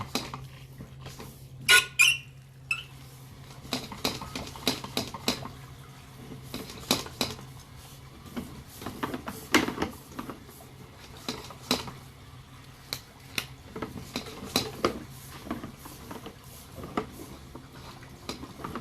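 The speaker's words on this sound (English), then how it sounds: "My camera is scraping a lot of grease and stuff loose from the flow line." A sewer inspection camera scrapes grease loose along the flow line of 3034 PVC pipe, giving continuous close rattling and scraping with intermittent clanks and squeaks over a steady low hum, with no voices.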